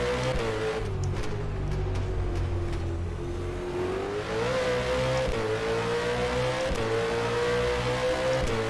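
A V8 Supercar engine revs continuously in the rFactor 2 racing game, a loud, steady engine drone rising and falling through gear changes and throttle shifts, heard from onboard without talk.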